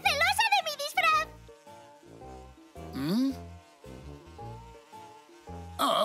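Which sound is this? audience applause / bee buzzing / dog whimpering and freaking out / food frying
bee buzzing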